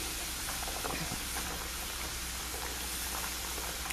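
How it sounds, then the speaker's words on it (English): Plantains for tostones frying in hot oil, a steady dense sizzle with scattered small pops and crackles, close and continuous with no talking. "if you see it frying like this, that means it's working"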